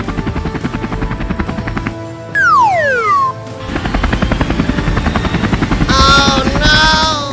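A helicopter in an animated cartoon chops with a loud, fast, rhythmic thumping that drops out briefly for a falling whistle-like effect, then comes back with bright cartoon tones layered over it.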